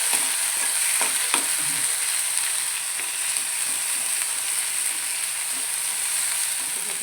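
Ground masala of coriander, coconut and onion sautéed in oil in a pan for a brinjal curry, giving a steady close sizzle with scraping stirs and occasional spatula taps, no talking.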